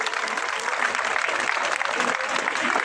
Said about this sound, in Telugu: Can we have a very good round of applause?